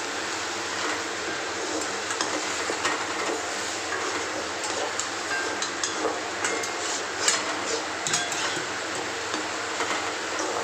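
Chicken pieces sizzle steadily as they are stir-fried in a pan for kosha, a soft continuous frying hiss with faint clinks of a spatula, no voices.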